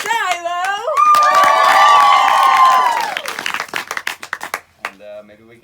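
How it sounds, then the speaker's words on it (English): A group cheering and whooping at a night of fun during a World Race gathering in Swaziland, shrill voices swelling loudly and then breaking into scattered clapping that fades out. "I want to hear a big round of applause for Maddie G."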